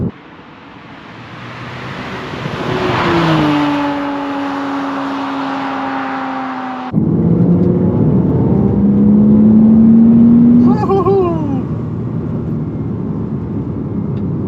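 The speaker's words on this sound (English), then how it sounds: "We just gotta talk about the flat six a little bit. It sounds so good." A Porsche Boxster's flat-six engine drones loud and close from inside the moving car. It climbs steadily in pitch, drops at a gear change, then pulls up again in a strong, smooth rising whine.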